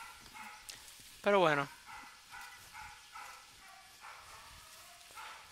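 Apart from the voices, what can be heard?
dog barking in the background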